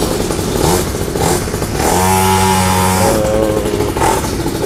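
A pull-started 50cc two-stroke mini trail motorcycle runs close by, with a steady buzzing idle that rises in a brief rev through the middle before settling back.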